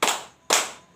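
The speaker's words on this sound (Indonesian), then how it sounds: "tepuk tangan 2 kali" A class of schoolchildren claps their hands twice in unison, two sharp loud claps about half a second apart, each with a short ring-off.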